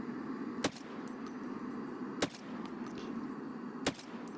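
Long-range rifle gunshots in the online shooter Escape from Tarkov, three sharp, loud cracks spaced about one and a half seconds apart over a steady background hum, with faint ringing tones between shots.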